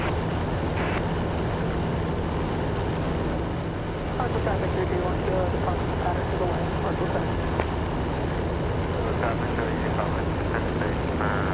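Heard from inside the cabin, a small airplane engine drones steadily and loudly in flight around Nashville. The drone continues without a break while people talk over it.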